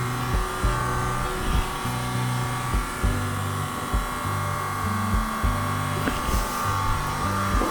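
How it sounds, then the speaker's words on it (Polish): An SD960pro smoke machine runs during an exhaust leak test on an Opel Astra K, a steady loud mechanical hum with a repeating pulsing rhythm throughout. "tu musi troszeczkę tego dymu nam wyprodukować ta maszyna niestety"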